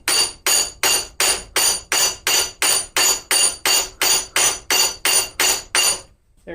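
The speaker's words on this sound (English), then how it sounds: "get it clamped up and continue to hammer." Rhythmic hammer blows shaping railroad spike tongs on an anvil, about fifteen evenly spaced ringing metallic strikes, loud and close, ending abruptly in silence.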